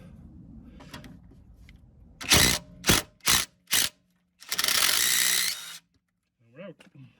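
Ratchet clicks in short bursts as a socket works a small 10mm bolt under a Renault Clio 197/200 during tie rod replacement, four quick loud runs then a longer sustained ratcheting spell, with a faint voice near the end.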